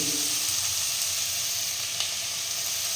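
Prawns sizzle with tomato in a hot frying pan for a drumstick prawn curry, a steady close hiss of frying that holds evenly for the whole stretch with no talk.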